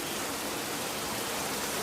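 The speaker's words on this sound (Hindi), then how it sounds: "बहुत तेज़ वाली बारिश हो रही है" Heavy rain pours down outside in a steady, dense hiss with no breaks, close and fairly loud, with no voices.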